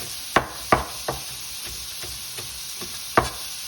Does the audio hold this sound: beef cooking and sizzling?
yes